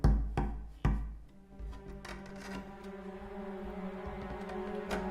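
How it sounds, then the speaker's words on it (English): Several sharp knocks come from the attic of a house, a loud pair of thuds up front followed by a softer tap, then a quieter rumbling room noise with no one speaking. "I kept hearing a knocking."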